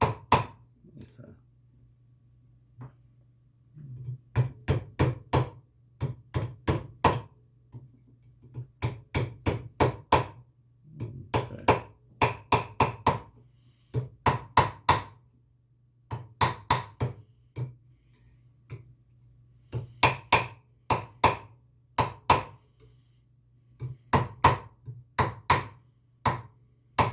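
A hammer taps on non-ferrous metal against a polished steel block at a jewelry bench, sharp ringing strikes in quick clusters of several blows separated by short pauses, over a low steady hum.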